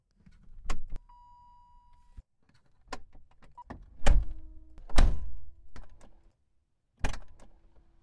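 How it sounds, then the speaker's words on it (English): Recorded car door sound effects: sharp latch clicks and heavy thunks spaced apart, with mechanical whirs between them, close and isolated against silence. "See if there's a better car door opening."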